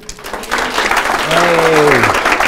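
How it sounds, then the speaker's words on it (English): Teachers of English gathered in Budapest applaud themselves, the clapping swelling quickly from a quiet start into a full, loud burst, with voices and a rising cheer mixed in. "let's start by giving yourselves a round of applause"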